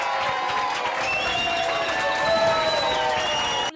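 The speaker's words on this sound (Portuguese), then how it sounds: "A cada participação, aplausos e vaias." A crowd at a parliamentary hearing in Brazil's Chamber of Deputies reacts with sustained applause mixed with shouting and booing, a dense, continuous roar of many voices that cuts off abruptly at the end.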